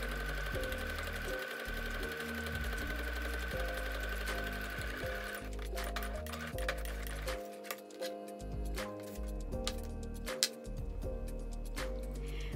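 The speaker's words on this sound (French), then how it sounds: "on pique au point droit à la machine" A sewing machine runs close and steady, straight-stitching the folded hem of a fabric face mask, its rapid mechanical rattle broken by brief pauses and a small click.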